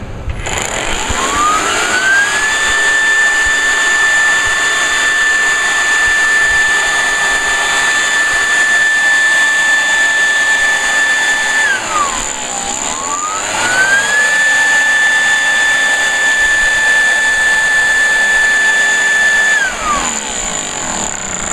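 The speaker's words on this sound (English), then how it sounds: "So here it is with the blower attachment." A lawn tool with a blower attachment runs with a loud, steady whine and airy rush, revving up twice, holding high for several seconds, then dropping back, close by with no speech.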